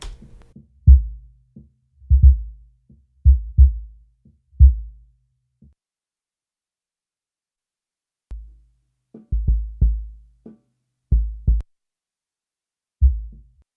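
Deep, booming kick drum hits recorded with a subkick microphone come in short clusters, very low and thumping, with a silent gap partway through before the beats resume.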